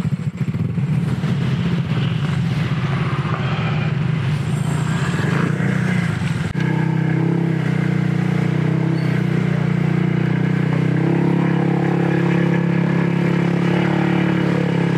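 Motor scooters run hard off-road on a rough trail on the way to a motocamping site, with a close, loud engine droning and revving throughout, then settling into a steadier, lower-pitched hum partway through.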